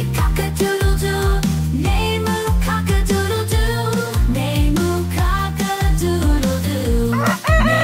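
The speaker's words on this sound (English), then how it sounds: "The roosters on the farm say cock-a-doodle-doo." A rooster crows over a loud, bouncy children's farm-animal song, its rising call blending into the steady beat and melody of the music.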